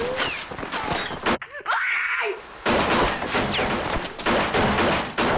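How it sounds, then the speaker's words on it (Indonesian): Dense, loud gunfire from a film police shootout, with rapid volleys of shots and a brief lull midway before the firing resumes at full intensity. "Sempat terjadi adu tembak."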